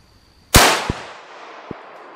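A single loud rifle shot from a .25-06 or .270 firing 120-grain bullets cracks sharply, followed by a long decaying echo across open ground, with two faint later thuds or echoes.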